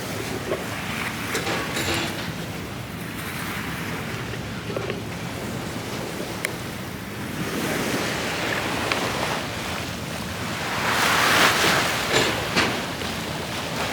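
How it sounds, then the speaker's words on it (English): Lagoon water slaps and washes in front of the San Giorgio Maggiore island church in Venice, a continuous rushing wash mixed with wind buffeting the microphone and a stronger surge toward the end. "Having the water splashing right in front of the church"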